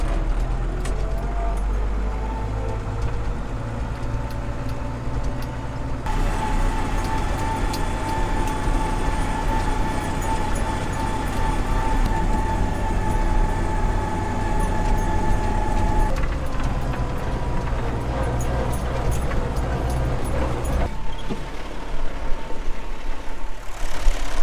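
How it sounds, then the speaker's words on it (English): A farm tractor drives along a road past barley fields, its engine a steady, loud low rumble that continues throughout with shifts in tone as it travels. "we'll use this tractor instead."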